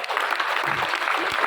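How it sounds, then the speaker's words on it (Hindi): An audience claps hard for a student at a NEET and JEE victory celebration: dense, steady applause, loud and continuous through the short span. "जोरदार ताली बजाइए इस बच्चे के लिए"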